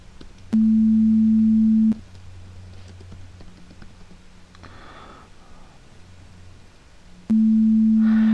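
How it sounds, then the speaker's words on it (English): A steady, pure synthesized sine wave tone made with Haskell plays twice, each time for over a second, with a low hum and faint clicks in between. "here's our common sound of sine wave"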